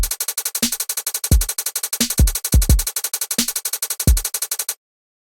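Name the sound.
drum pattern with shuffled hi-hats and kick fill, 30% swing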